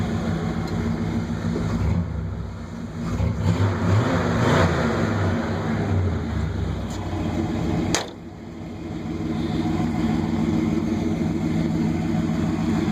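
A 1969 Chevrolet C10 stepside pickup truck engine runs and revs up, the roar swelling then dropping abruptly before settling back into a steady idle.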